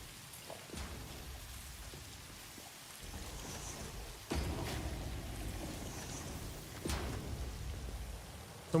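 Steady rain pours down in a factory-building video game, a constant broadband patter with a few brief louder surges, heard alone without talk.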